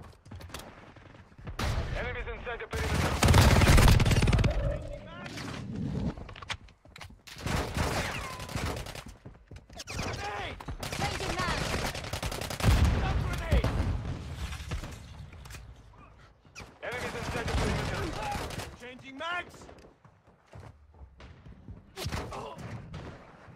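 Gunfire from Call of Duty Mobile rattles in repeated bursts across a multiplayer map, with dense rapid volleys, pauses, and thuds interspersed.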